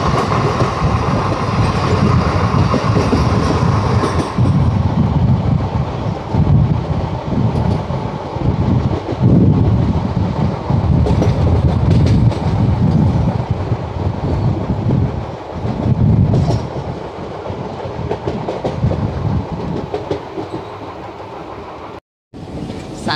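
A local passenger train rolls past on rails near a halt station in India, a loud continuous rumble with clickety-clack and wind noise lasting over twenty seconds, no talking.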